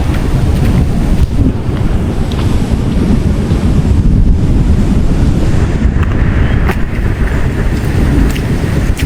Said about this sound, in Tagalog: Grabe guys, lakas na alon.